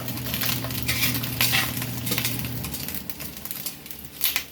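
Fresh jalapeno peppers cook in olive oil in a pan with a steady, close sizzle, overlaid by occasional scraping and stirring sounds and a low, constant hum under it all.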